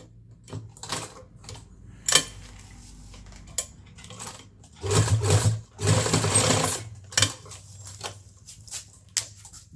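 A sewing machine stitches a zip onto a school coat in short bursts of rapid mechanical chatter, including one longer sustained run, separated by pauses and a few single clicks, loud and close.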